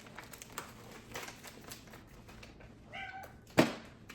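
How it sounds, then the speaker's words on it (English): A pet cat meows near the microphone in a home, a short rising call near the end with a sharper sound just after, over faint background noise and light tapping; no one speaks. "My cat is here."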